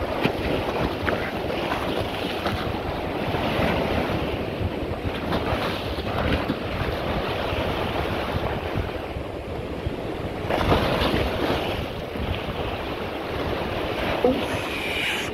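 Rough sea waves churn and crash against the seafront at Blackpool, a continuous loud roar of surf mixed with heavy wind buffeting the microphone, with no talk.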